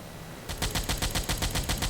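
Anti-aircraft gun on a submarine in Silent Hunter IV firing a rapid, even burst of about a dozen loud shots that starts abruptly and continues to the end.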